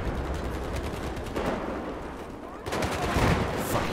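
Rapid gunfire from the Battlefield 4 multiplayer video game in a team deathmatch, dense bursts of shots filling the mix, growing heavier and louder toward the end, with no talk.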